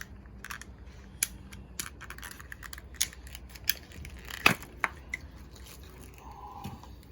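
New carburetor gasket packaging being torn and crinkled open for a Honda Helix scooter, irregular sharp crackles and snaps of plastic at close range, with no voices.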